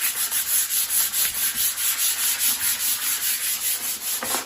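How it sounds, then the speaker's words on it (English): Fine 400 grit sandpaper rubbed over fabric in steady back-and-forth strokes, a continuous close hiss with a regular rhythm of roughly two passes per second, heard alone. "I'm going to sand all over."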